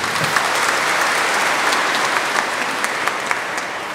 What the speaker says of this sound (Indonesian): Tepuk tangan dulu untuk Bogor